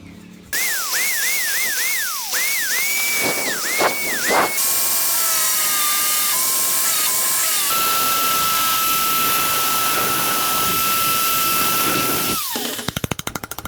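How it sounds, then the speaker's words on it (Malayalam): A small power tool bores a hole for a USB module in the enclosure of a homemade USB MP3 player, its whine rising and dipping in pitch at first, then holding a steady tone before stopping with a few rattles. "അടുത്തായി നമുക്ക് USB മൊഡ്യൂളിനുള്ള ഹോൾ കൂടെ ഇട്ട് കൊടുക്കാം."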